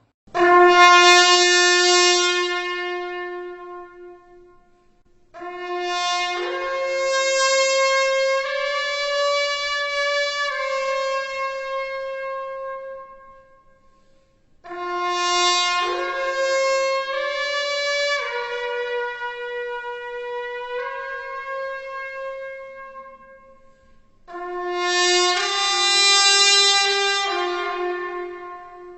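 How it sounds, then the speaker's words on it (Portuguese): An ancient Roman cornu horn blows four long, loud brassy calls with stepping notes, each held and fading before a pause, ringing out alone. "Esse era o som do antigo corno romano"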